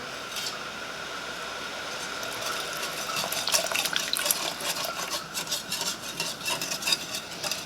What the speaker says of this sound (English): you want to constantly be stirring it at this point